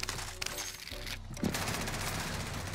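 Rapid sustained LMG fire in Call of Duty: Warzone, loud and dense with a brief gap midway before the burst resumes, cracking continuously over game ambience.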